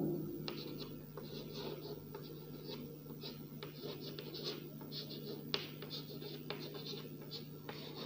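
Faint, repeated scratchy strokes of writing an example on a board in a quiet classroom setting, arriving in short bursts over a steady background hum.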